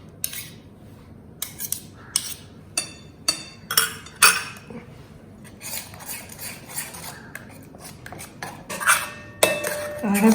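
Metal spoon clinks and scrapes against a bowl while paneer tikka marinade is stirred with malai cream, a steady series of sharp, close clacks in an irregular rhythm with no talking.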